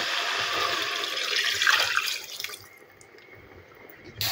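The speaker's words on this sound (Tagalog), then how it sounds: "Lagyan na natin ng" Water splashes and pours steadily into a cooking pot for a couple of seconds, then trails off into quiet dripping and small movements nearby.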